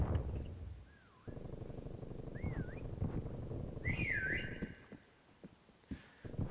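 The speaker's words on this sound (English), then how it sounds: "I keep whistling right next to people." In a Prop Hunt round of a game on the Moscow map, a prop emits short melodic whistled phrases, three rising-and-falling tunes spaced a second or two apart, clear over a busy game background with scattered clicks and thumps.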